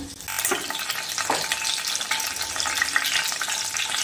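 Whole garam masala spices crackle and sizzle steadily in hot oil in a kadai while an Andhra-style paneer curry is being started, with a dense, continuous frying hiss and a few brief stirring clinks. No one speaks.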